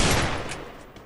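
Rapid burst of M500 shotgun fire in an online shooter video game, loud and close, fading out within about a second with no talk over it.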